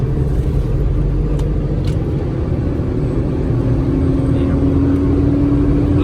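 An Isuzu 6HK-240 truck engine runs at a light, steady rpm while driving in sixth gear, giving a continuous low rumble with a faint rising tonal whine and no speech over it.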